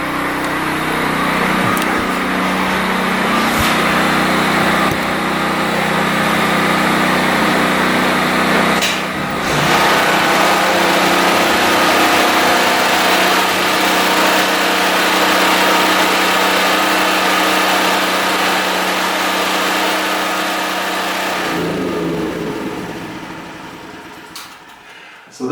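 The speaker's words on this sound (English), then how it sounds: "so we'll shut our generator down" A Generac portable generator engine runs with a loud, steady drone that continues for about twenty seconds, then winds down and falls quiet as it shuts off.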